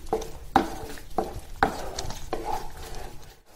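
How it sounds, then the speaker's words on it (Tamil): A spoon scrapes and knocks against a pan while mango paste for halwa thickens, giving a few soft clinks and a steady low shuffle of stirring, close by. "மேங்கோ பேஸ்ட் வந்து நல்லா திக் ஆகுற வரைக்கும் கலரி விட்டுக்கிட்டே இருங்க"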